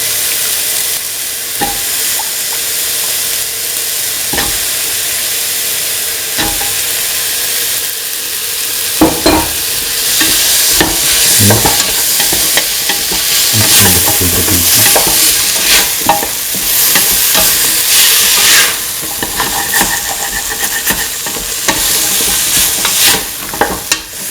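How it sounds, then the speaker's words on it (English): Potato pieces frying in coconut milk rice, stirred in a pan: a loud, constant sizzle with repeated scraping strokes and clatters of the spoon against the pan, building busier midway. "Mix thoroughly. Put in the potato pieces."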